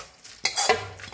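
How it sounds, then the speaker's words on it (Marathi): Ajwain seeds dry roast in a pan, giving a soft crackling sizzle with scraping stirring strokes that swell and fade at close range. "अजवाईन घेतले बघा, ते भी भाजून घेऊया"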